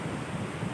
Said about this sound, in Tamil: இப்போ பாருங்கள், பயங்கரமாக தண்ணி ஓடுது.